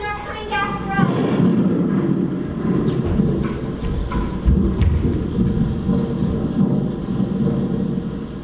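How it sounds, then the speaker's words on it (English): A strong storm rumbles with thunder, heavy low crashes and rolling booms over wind and rain, loud and close throughout, with a brief higher tone at the start. "It was only a storm. It didn't last long, but it was very strong."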